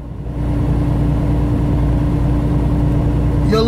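A truck engine drones steadily while the truck drives slowly on I-80 near a construction zone, a loud, continuous low hum with no breaks.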